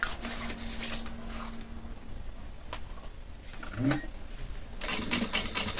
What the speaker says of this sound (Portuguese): vamos alinhar marcação com marcação e costurar até embaixo